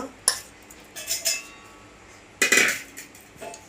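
A spoon stirs heated oil into mango pachadi, producing a few close metallic scrapes and clinks against the bowl in separate bursts with quiet between them.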